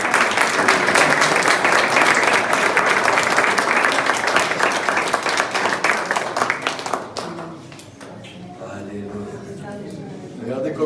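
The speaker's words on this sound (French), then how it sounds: "Régis, Kerlin, on applaudit." A crowd at a church service applauds loudly and steadily, the clapping fading after several seconds as a voice begins speaking over the tail end.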